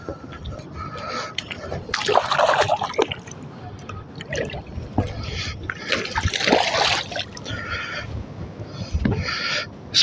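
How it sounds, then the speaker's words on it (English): Channel catfish thrashing in water at night while landed on a line, with bursts of splashing and spattering near the microphone, broken by quieter gaps and a voice speaking in between. "Splashing all over the place."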